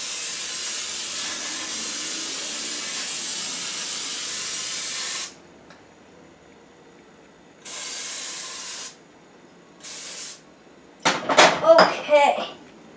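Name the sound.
Pan cooking spray sprayed into a bundt cake pan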